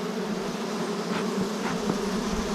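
Honeybees swarming over hive comb after smoking, a dense steady buzzing drone, close and continuous, with individual bees whining past now and then.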